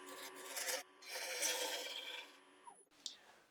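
A turning tool scrapes and cuts a live-edge cherry wood bowl spinning on a lathe, giving a steady, loud raspy shearing sound in bursts with brief pauses between passes.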